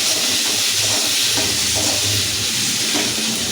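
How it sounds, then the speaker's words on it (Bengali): Tomato frying in a pan after onions and salt, a dense steady hiss and sizzle with faint crackles, continuous and close, without talk. "টমেটোটা ভাজছি"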